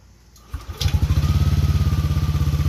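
A Yamaha Nmax v2 scooter with an aftermarket exhaust starts up and settles into a loud, close idle with a fast, even pulsing burble.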